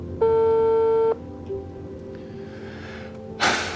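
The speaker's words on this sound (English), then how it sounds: "Answer the phone, babe." One long electronic tone sounds on an outgoing phone call, then a pause with faint background, then a short burst of breathy noise, close and moderately loud.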